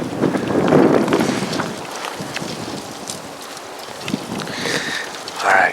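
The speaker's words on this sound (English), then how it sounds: "It's a little bit windy today" Wind gusts buffet a hunting blind on a cold morning, a rushing, uneven roar that swells near the start, eases off, and picks up again toward the end, with no talk.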